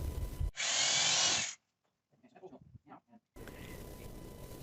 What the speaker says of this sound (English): he'll drill small holes through the plastic tray and through the aluminum frame